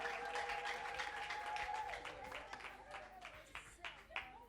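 A church congregation breaks into scattered applause, faint and a little distant, with claps growing sharper toward the end while a voice talks over them.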